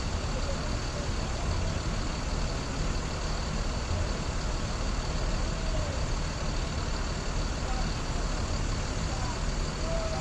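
An intercity bus engine idles and rumbles steadily while the bus parks at a terminal, a constant low drone with faint background sounds and no clear changes in level.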